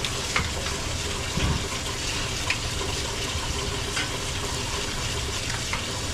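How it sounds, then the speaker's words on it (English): Tap water runs over blueberries being washed, a steady broadband splash and hiss with a few soft knocks, close and continuous. "Just let the water run over them"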